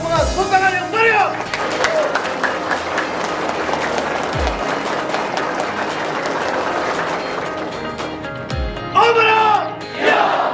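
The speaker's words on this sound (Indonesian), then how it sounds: "Untuk membakar semangat, tepuk tangan yang meriah." Enthusiastic audience applause at a monthly religious study gathering in a Sundanese restaurant, a dense sustained roar of clapping for most of the stretch, with a voice speaking over it at the start and again at the end.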